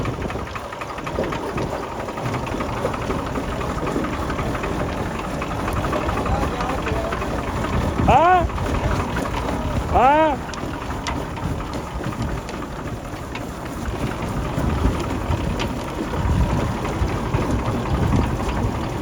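A farm machine's engine runs steadily in the field, a continuous rumbling drone that stays fairly loud throughout, with a couple of brief higher whining sweeps partway through.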